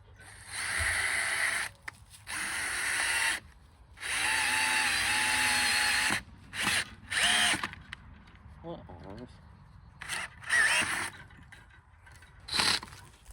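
A power drill driving on a greenhouse build, its bit stripping as it works, in several loud whirring bursts of a second or two, with short pauses and quieter gaps between them.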